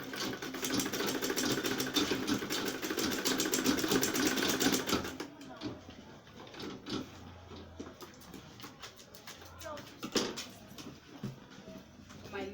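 A sewing machine stitches an insulated lunch bag in one continuous rapid run up close, then stops, leaving scattered handling clicks and faint rustling.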